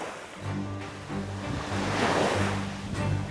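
Ocean surf rolls and washes continuously, a broad rushing roar of breaking waves up close, with a low steady rumble underneath.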